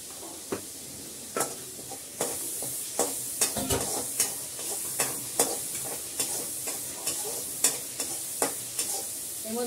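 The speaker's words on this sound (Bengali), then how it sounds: "তেল দিয়েছি, শুকনো লঙ্কা দিয়েছি, ভালো করে এটা কষিয়ে নেব" Dried red chillies frying in hot oil in a pan, a continuous close sizzle broken by frequent rhythmic scrapes and clacks of a spoon stirring against the metal, with no talking.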